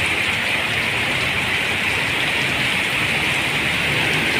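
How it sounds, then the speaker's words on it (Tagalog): Heavy rain pours down in the Philippines in a dense, steady roar with no breaks, loud and close, with no voices. "Ang lakas ng ulan"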